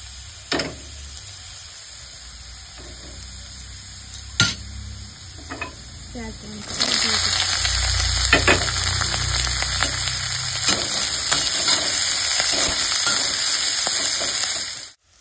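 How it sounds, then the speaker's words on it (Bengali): Potato and onion fry in a little oil in a pan, a close crackling sizzle that grows louder partway through, punctuated by spatula scrapes and stirring. "এই যে আলু আর পেঁয়াজটা একটু ভাজা ভাজা হয়ে গেছে,"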